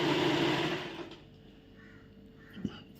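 Sewing machine stitching a saree blouse, a loud, close whirring run that slows and stops after about a second, followed by quiet room sound and a single faint knock.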